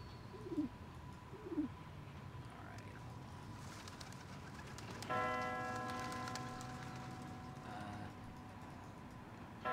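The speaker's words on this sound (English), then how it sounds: "I hear pigeons." Pigeons in a Philips CD-i game give two soft, low coos close together, then a bell chimes with ringing tones over a steady background murmur.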